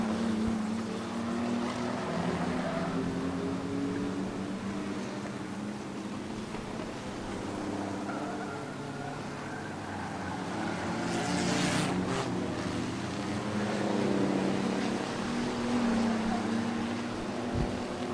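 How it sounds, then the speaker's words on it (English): Race trucks roaring through a corner during the Spring Smackdown Truck Enduro, a steady loud engine drone with shifting pitch as trucks run close together on the track, no voices over it. "So we got ourselves a little bit of a race here for the Spring Smackdown Truck Enduro."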